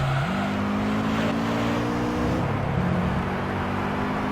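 A race car with a racing exhaust in Gran Turismo 3 drones loudly and steadily, its engine pitch stepping up through gear changes and then settling into a sustained high whine.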